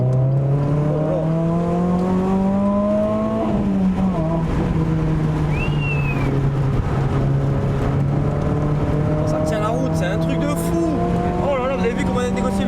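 Renault Clio 3 RS with a naturally aspirated engine, droning loudly and steadily as it accelerates through the gears on track, with a shift near four seconds and a brief tire squeal; voices talk over the engine.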